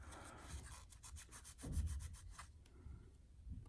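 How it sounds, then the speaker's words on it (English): Thin washers from a Spyderco Tenacious pocket knife rubbed by hand on a surface, a close, quiet series of rhythmic scraping strokes with short pauses between them. "we'll go ahead and rub these guys on here"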